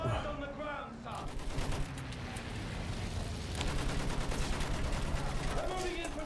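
Battlefield 1 combat gunfire, a dense continuous rattle of shots and explosions running throughout, with a voice speaking briefly at the start over the din.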